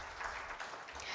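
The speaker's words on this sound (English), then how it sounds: "Everyone give it applause for all the panelists." Audience applause for the panelists at a smart meter summit panel on meter data management systems, a steady, faint wash of clapping that stays at an even level throughout.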